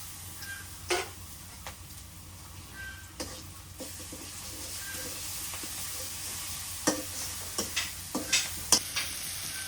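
Turmeric and garlic paste frying in a pan for a village fish curry, a steady soft sizzle broken by occasional stirring scrapes and small clicks, close and continuous, with no talking.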